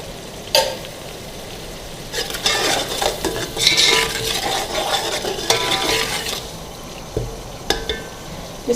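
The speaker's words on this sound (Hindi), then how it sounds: "इस मसाले को अच्छी तरह भूनेंगे।" Spice masala with plum seeds being fried and stirred in a pan for beef kofta biryani, with loud, close scraping and clinks of a metal spoon against the pan over an ongoing sizzle.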